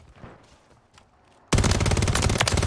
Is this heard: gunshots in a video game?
yes